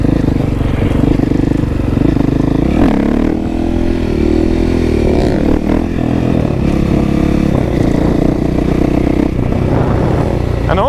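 A motorcycle being ridden at a steady pace, its engine droning loud and close throughout with shifting pitch, under rushing wind noise.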